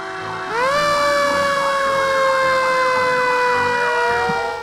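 A fire engine siren wails loud and close, a steady rising and falling electronic tone that swells in after a half-second of background hiss and keeps sounding on its own to the end.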